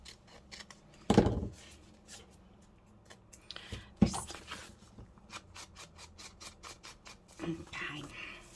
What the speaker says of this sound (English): So just get my scissors and cut that down.